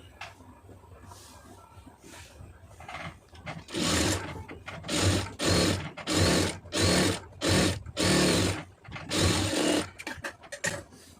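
A sewing machine stitching around the edge of a blouse: quiet handling at first, then a run of loud mechanical bursts of rapid needle clatter, repeated start-stop runs of about a second each, close up.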